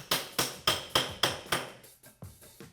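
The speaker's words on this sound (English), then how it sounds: "use it with the hammer to drive the rear sight onto the slide as far as we can" A hammer strikes a wooden dowel rim block, driving the rear sight onto a Walther PDP pistol slide: about eight sharp, evenly spaced taps, each decaying quickly, the last few lighter.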